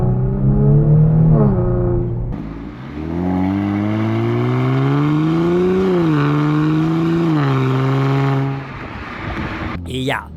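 Drone from a Borla exhaust on a Genesis G70 with its valves closed under part throttle: a loud, steady droning tone rising and falling with engine speed, ending in a brief high whine.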